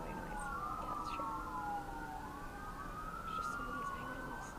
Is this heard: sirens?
yes